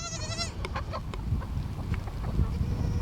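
Chickens clucking around feeding time on a small farm with goats nearby: a loud squawk opens, then a run of short close clucks over a low rumbling background.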